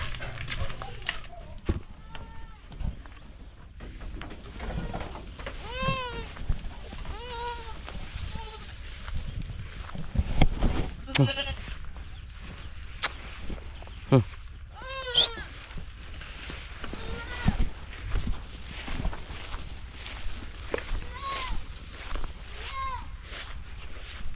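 A goat bleats repeatedly at a rural home, with several wavering cries spread across the clip, fairly close and set over background noise and occasional talk.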